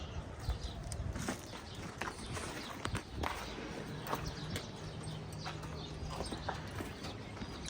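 A horse's hooves clip-clop at a steady walking pace on a hard surface, near and fairly faint, with soft ambient noise around them.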